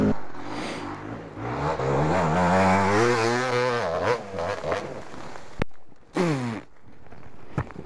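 A 250cc enduro motorcycle engine revs loudly and steadily with rising and falling pitch, then cuts out and fires again in short bursts near the end.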